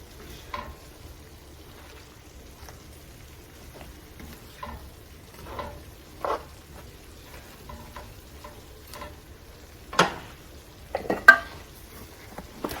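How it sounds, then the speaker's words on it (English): Egg roll in a bowl mixture cooking in a large pan, a low quiet sizzle under scattered clacks and scrapes of a spoon stirring, with a few sharper knocks against the pan near the end. "I'm just going to stir it as it goes."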